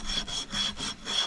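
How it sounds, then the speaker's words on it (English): Sandpaper rubbing back and forth on a leaking pipe being prepared for repair, steady rasping strokes in an even rhythm, about four passes in quick succession, close and alone. "now we can start sanding."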